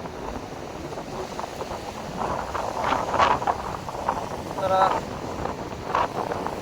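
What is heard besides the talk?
strong wind blowing on the sea, wind noise on microphone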